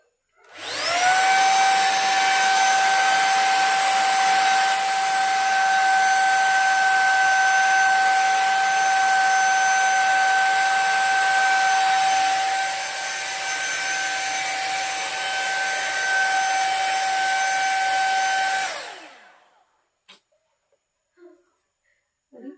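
A hot air hair brush blows continuously with a loud, steady whoosh and a high electric whine for about eighteen seconds. It then cuts off, leaving near-silence and a few faint clicks.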